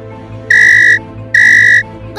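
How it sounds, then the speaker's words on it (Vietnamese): Alarm whistle in an animated Vietnamese cartoon: two loud, steady high-pitched blasts of about half a second each, separated by a short gap, over a faint background music bed. "Đây là tiếng báo động mà."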